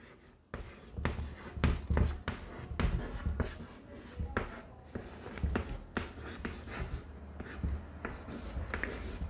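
Chalk or marker strokes on a board come in quick scratchy bursts with short pauses between, close and fairly quiet, with no talking.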